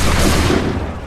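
Massed musket volley from soldiers in Assassin's Creed III, a dense, loud roar of overlapping shots filling the whole moment with no gaps and no voices.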